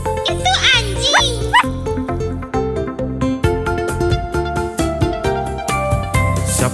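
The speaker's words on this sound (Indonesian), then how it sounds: "Siapa yang suka menggonggong guk?" Cartoonish dog barks pop out in quick bursts over the bouncy backing of a children's song, with singing voices mixed in and a jingly accompaniment continuing after the barks.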